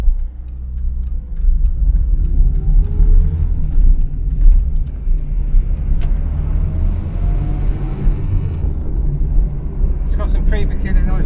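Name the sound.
Renault 9 transmission noise while driving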